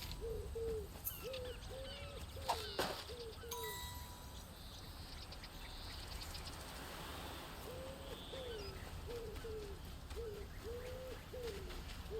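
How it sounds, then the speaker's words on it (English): Common wood pigeon cooing inside the wildlife video game Alba: A Wildlife Adventure, a soft repeated hooting phrase heard in two bursts over a steady ambient bed of birdsong and outdoor game sound. "Common wood pigeon."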